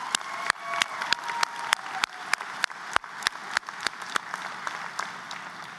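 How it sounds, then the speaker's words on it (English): Graduation crowd at the CHSU College of Pharmacy ceremony applauding graduates with academic honors, moderately distant clapping with distinct loud claps punctuating a steady patter throughout. "Please give our graduates who earn all of these academic honors a round of applause"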